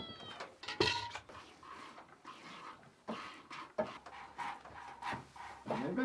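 A cat meows several times close by in a homestead high tunnel during a snowstorm. The meows come in short, irregular calls, mixed with faint rubbing and clattering movement.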